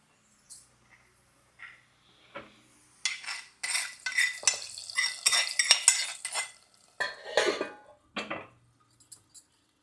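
Hot tempering poured into thick cooked dal and stirred, a quiet start with scattered clinks, then a burst of crackling sizzle and spoon scraping against the pot in irregular bursts, close and moderately loud.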